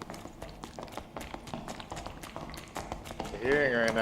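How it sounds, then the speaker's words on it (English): Footsteps in a video game patter quickly in a steady running rhythm, close and fairly loud, and a voice comes in briefly near the end. "Another pair of footsteps."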